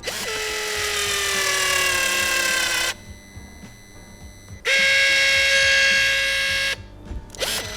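Dnipro-M DSG-200 electric sealant gun motor whirring in two loud bursts, each rising in pitch as it spins up and stopping abruptly, with quiet clicks between and after them.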